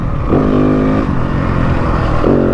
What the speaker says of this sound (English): Sam says really likes to be revved, so try and keep the RPMs up and let her rip